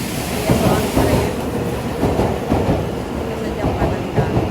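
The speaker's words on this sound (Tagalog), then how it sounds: "Ito ang tren." A Red Spider Lily train on the Chichibu line rumbles and clatters close by, a steady loud roar of wheels and rail joints with rhythmic clacks and faint voices underneath.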